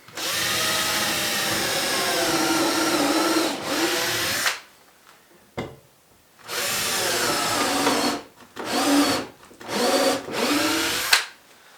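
A power drill bores a pilot hole in wood, whining loudly in several bursts separated by short pauses, close to the listener.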